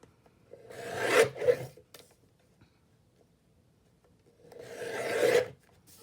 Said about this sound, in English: I'm going to bring up my guillotine, trim this down real quick.